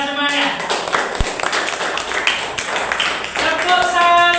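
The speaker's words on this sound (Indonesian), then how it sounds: "tepuk tangan untuk Mbak Nihla semuanya" A classroom of students claps for a classmate, a burst of applause under a teacher's voice, with clapping and talk mixed throughout.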